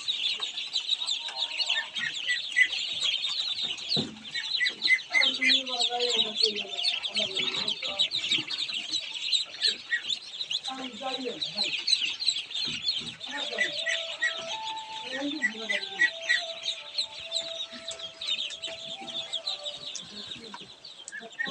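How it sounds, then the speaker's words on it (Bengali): White Belgian ducklings keep up dense, continuous high peeping close by, with scattered louder calls from other fowl and faint voices in the background. "বেলজিয়াম হাঁসের বাচ্চা দেখছেন, সাদা বাচ্চা।"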